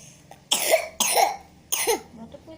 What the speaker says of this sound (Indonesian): Batuknya tuh sakit.